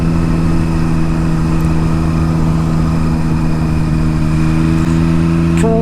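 Triumph Street Triple 765 motorcycle engine while riding country roads, a steady loud mid-pitched engine drone holding constant revs, with wind rush over the microphone, a short sharp click near the end.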